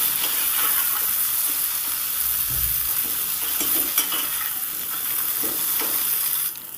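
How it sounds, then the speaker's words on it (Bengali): Okra sizzles steadily as it fries in a pan, with intermittent scraping and stirring strokes, close and continuous at moderate level throughout, with no talk. "দেখুন ভেন্ডিটা ভাজা হয়ে গেছে"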